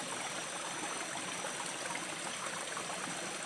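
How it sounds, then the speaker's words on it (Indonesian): A forest river stream flows over mossy rocks, a soft, steady hiss of running water heard faintly and evenly from nearby. "Kita telusuri airan sungai ini ya."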